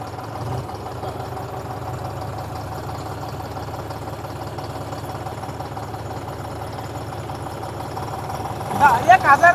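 A tractor engine, John Deere 5050D or Eicher 548, idles steadily at about 1000 rpm with an even mid-low drone, voices talking faintly over it and a few louder thumps at the very end.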